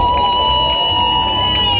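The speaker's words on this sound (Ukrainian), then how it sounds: "Александр Глущенко, друзья, аплодисменты!" At an MMA fight, a crowd applauds and cheers in a short, dense burst of clapping and shouts, with whistle-like tones above the noise.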